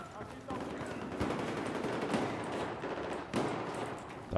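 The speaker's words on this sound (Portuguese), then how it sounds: "o cara tá trocando tiro ali" Gunfire in the video game Battlefield 1: dense, continuous exchange of shots and bursts over a busy battlefield din, with a player talking over it.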